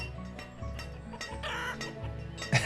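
Chickens cluck repeatedly in the village-building game Banished, a close, busy run of short clucks and squawks with a sharper burst at the end, no voices.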